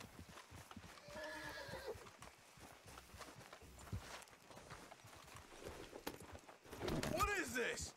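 A horse neighs and its hooves clop in Red Dead Redemption 2, a whinny early on and another near the end, with hoofbeats and footsteps between, close and moderately loud while someone talks over it.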